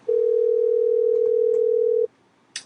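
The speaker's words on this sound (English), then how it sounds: "And right now it's ringing." A Gmail video chat call ringing on the caller's end: one steady, clean electronic tone lasting about two seconds, then a pause and a short click.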